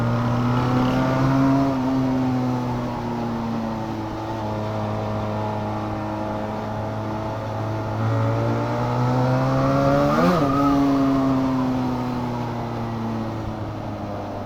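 An RKS SRK250RR motorcycle engine hums close and loud while riding on the road, holding a steady droning pitch that drifts up and down with throttle, with one quick wavering blip midway.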